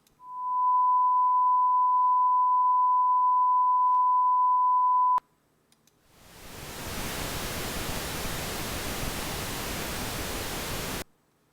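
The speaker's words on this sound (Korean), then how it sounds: "마이너스 14dB 사인파와 핑크 노이스 음을 들어보십시오" A steady pure sine tone at about -14 dB holds for five seconds, then after a short silence a dense hiss of pink noise follows at similar level, both clean test signals with no voice.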